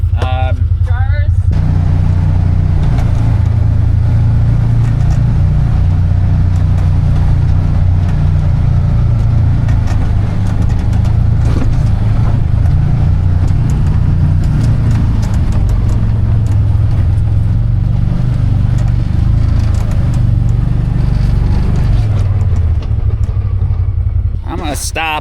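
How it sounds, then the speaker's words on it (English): A truck engine that has sat all winter starts and runs for about 25 seconds, then shuts off. It gives a loud, close, steady rumbling drone. "Stop and start the truck real quick here."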